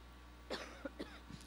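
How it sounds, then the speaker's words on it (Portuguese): A single cough, close by, with a brief throat-clearing catch after it and a couple of softer follow-up coughs in an otherwise quiet room. "Orem pela minha tosse."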